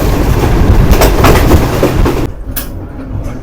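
Loud rushing roar and rail clatter of the Green Line express at high speed near Dina station, heard from inside, dropping abruptly to a quieter hum partway through.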